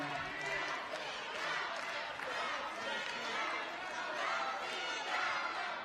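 A large crowd of Russian supporters at a ballroom dance competition roars and cheers continuously at a dense, even level, with a commentator talking over the noise.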